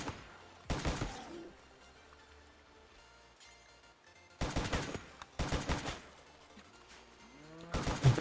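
Gunfire during a Rimworld colony battle: sparse sharp shots in short clusters separated by quiet gaps, moderately loud, with no talking.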